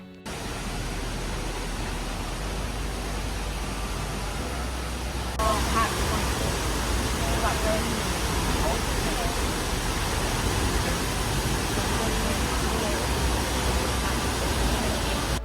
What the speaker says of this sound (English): I never have seen a waterfall like this in my life